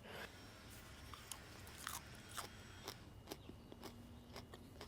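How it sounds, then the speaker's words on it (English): Crunchy garden leaves grown in shade are bitten and chewed up close, giving a series of sharp, crisp crunches at an irregular pace over a quiet background. "So when you bite into it, it makes that nice, really like that nice crunch."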